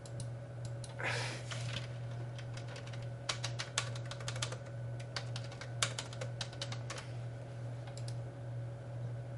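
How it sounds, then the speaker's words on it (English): Someone types on a computer keyboard, bursts of quiet rapid key clicks with short pauses over a constant low electrical hum. "I am here typing."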